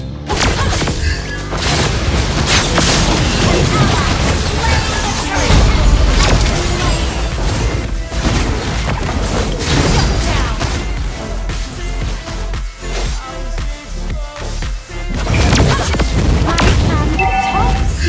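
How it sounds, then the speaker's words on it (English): Heavy booms and crashing impacts fill a Mobile Legends match as a turret is destroyed, loud and continuous with game effects and music layered throughout. "Our turret has been destroyed."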